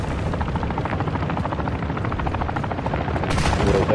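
A helicopter in the video game Warzone gives a loud, steady rotor chop that stays close throughout, with faint gunfire mixed in beneath it.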